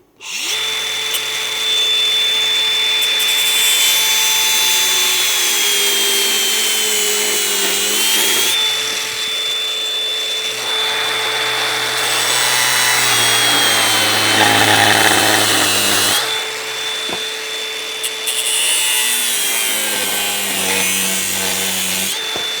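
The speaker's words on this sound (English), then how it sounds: "Now I'm going to do a little bit with grinder and then I'm going to finish it on linisher there because it makes a nicer job." A steel exhaust X-pipe for an Audi S4/S5 is ground with a grinder and then finished on a linisher, making a loud, continuous whining and rasping hum with pitch shifts and brief pauses between passes, close by with no talking.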